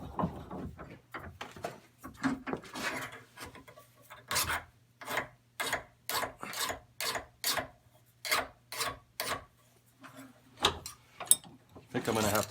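Rough, rhythmic rasping strokes from cleaning up a damaged 1.5-inch drill bit, about a dozen evenly spaced scrapes. A soft, quiet hum sits underneath and there is no talk.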